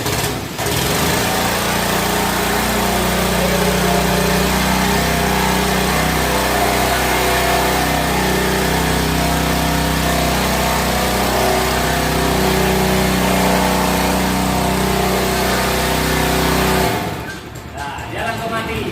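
A petrol engine on a floor brush scrubbing machine, used for scrubbing carpets and floors, runs loud and steady close by for about seventeen seconds, revving under throttle, then cuts off abruptly near the end.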